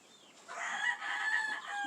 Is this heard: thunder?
no